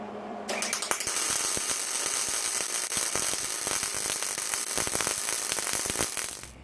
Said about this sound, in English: I'll go ahead and put a weld in on there and a weld down